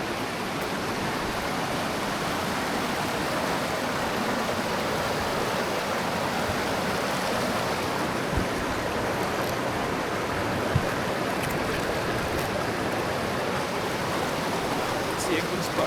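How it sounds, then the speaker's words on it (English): River water near waterfalls rushes in a steady, broadband roar, continuous and fairly loud with no break across the whole stretch. "let you get to listen just to water flowing from the river"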